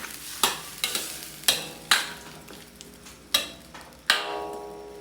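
Chayote sautés in a pan, sizzling softly while a utensil strikes the pan about seven times at uneven intervals, each sharp clank ringing briefly over the frying.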